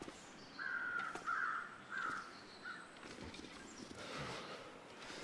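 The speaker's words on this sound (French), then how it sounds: "Ils sont où les corbeaux là?" Crows in the survival game The Long Dark caw four times in an evenly spaced run of harsh, moderately loud calls over quiet outdoor ambience, then soft footsteps shuffle.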